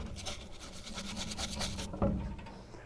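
Stiff brushing scrubs grime off a C3 Corvette brake caliper, with rapid repeated rasping strokes close up, followed by a brief knock and quieter rubbing near the end.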